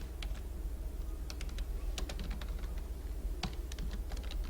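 Someone types on a computer keyboard while writing CSS code, producing quiet, irregular clusters of light key clicks with short pauses between bursts and no voices.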